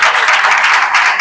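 A church congregation breaks into loud, close applause during a Hindi-language worship gathering, a brief burst of dense clapping.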